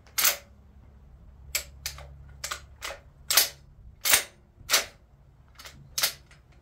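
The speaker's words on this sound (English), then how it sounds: "this is the first shot through it and the shotgun." Sharp shotgun blasts from an SDS Imports Tokarev TT12, about eight loud separate reports spaced irregularly over several seconds, each with a short decay, no talking.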